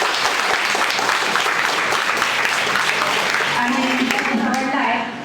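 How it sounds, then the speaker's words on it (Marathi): An audience at a Marathi literary event claps loudly and steadily, filling the hall with dense applause for several seconds before it fades at the end. "आपण सगळ्यांनी मोठ्या टाळ्या वाजवून त्यांचं कौतुक करूया"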